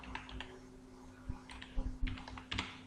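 Computer keyboard typing a name into a Word table column: a quick, irregular run of light key clicks, close but fairly soft, with no voices.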